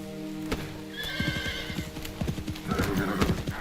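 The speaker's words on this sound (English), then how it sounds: "That horse doesn't look good when it runs." In the video game Metal Gear Solid Delta, a horse gallops with rapid, rhythmic clip-clop hoofbeats close by, and a whinny sounds partway through.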